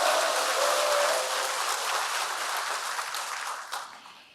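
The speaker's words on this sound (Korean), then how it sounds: "박수 부탁드립니다" An audience applauds guests being introduced at a rural basic income alliance launch ceremony, a dense rain-like wash of clapping that holds steady, then thins and tapers off toward the end.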